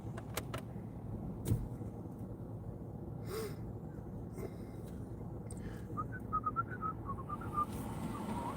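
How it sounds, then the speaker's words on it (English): A car engine idles steadily with a low continuous rumble, joined by a few faint clicks and a brief whistled tune near the end, with no talking. "My car's been running for an hour."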